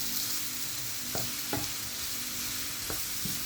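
Spices sautéing in a little oil at the bottom of a pan while cabbage sarma is being prepared, giving a steady low sizzle with a few sharp clinks of stirring.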